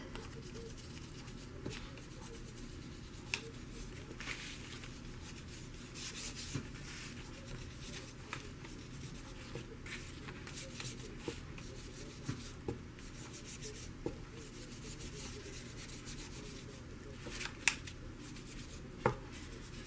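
Pencil scratching lines onto paper in a junk journal, a continuous close rubbing scratch with occasional sharper strokes, steady and alone without talk.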